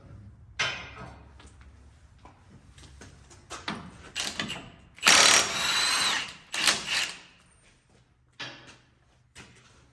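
A ratchet loosens the 32mm axle nut on a 2009 Nissan Rogue, producing irregular close bursts of metallic tool noise with one longer, louder stretch in the middle and quiet gaps between.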